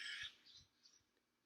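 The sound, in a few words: birds chirping outdoors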